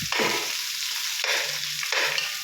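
Garlic and onion hitting hot oil for a sweet and sour lapu-lapu dish, with three loud bursts of sizzling spitting as the pieces drop in and are stirred, each flaring then settling into a steady frying hiss.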